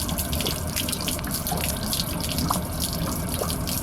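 Water rushing steadily out of the tank of a 2012 Keystone Passport 3220 BH travel trailer, a continuous broadband splashing flow with a few faint drips on top, close and fairly loud with no voices.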